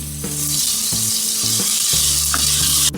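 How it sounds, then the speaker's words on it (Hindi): Onions frying in a hot pan for a bhindi masala, a steady loud sizzle with occasional stirring scrapes, close and continuous without talk. "इसको भी हम तकरीबन 5 से 6 मिनट तक इसको फ्राई करेंगे ताकि हल्का लाइट कलर का फ्राई हो जाए।"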